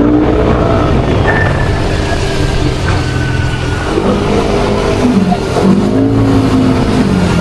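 Morning city driving on an open road in Manila with no traffic: close, continuous car engine and road noise, with rising and falling revs as the vehicle accelerates and shifts, and a brief whine partway through.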